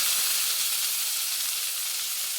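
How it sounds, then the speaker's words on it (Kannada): Chopped green chillies and onion sizzle in a hot pan with a loud, bright, continuous hiss and no voices. "ಈಗ ಇದಕ್ಕೆ ಕಟ್ ಮಾಡಿದಂಥ ಹಸಿಮೆಣಸು ಹಾಗೂ ಈರುಳ್ಳಿಯನ್ನು ಹಾಕಿಕೊಳ್ಳೋಣ"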